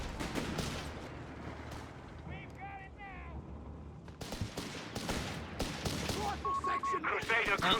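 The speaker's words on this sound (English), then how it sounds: "We do have a sniper now joining in with a scoped G43." Battle gunfire in Company of Heroes 3, including shots from a scoped G43 sniper rifle, crackles as a series of sharp, loud reports and bursts under someone commentator's steady talking.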